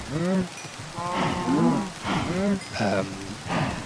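Cows mooing in the video game Minecraft, several drawn-out, wavering moos in quick succession, close and fairly loud, with a soft rain-like patter beneath.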